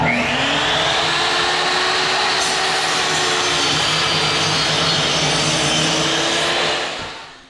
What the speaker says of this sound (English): Now I'll make it noisy because I'm going to kick on the vacuum and see how well that system works.